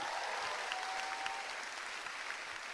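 Steady applause from an audience at a stand-up comedy show in Indonesia, a dense continuous clatter of clapping that holds at an even level for the whole stretch with no voices over it.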